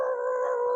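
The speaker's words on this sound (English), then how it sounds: "my dog start barking" A dog at home makes a drawn-out, steady, howling cry that holds a single tone for almost a second, fairly loud and close with no talking.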